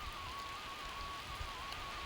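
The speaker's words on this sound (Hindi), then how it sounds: "बहुत ज़्यादा बारिश आ गई है" Heavy rain pours down steadily in a village garden in Himachal Pradesh, a dense, even hiss of drops hitting surfaces close by, with no voices and no pauses.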